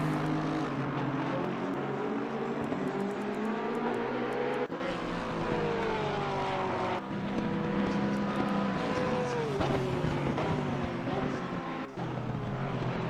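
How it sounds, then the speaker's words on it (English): Race cars in Assetto Corsa Competizione, a Porsche among them, running closely together; engines drone loudly and continuously with rising and falling revs and gear shifts, cars passing throughout. "he's being followed through closely by a Porsche, the Porsche of Andy specifically"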